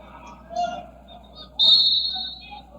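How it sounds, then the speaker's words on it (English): A referee's whistle stops play during a high school basketball game, a sustained shrill blast standing out loudly over the crowd and announcer's talk. "the whistle will stop play"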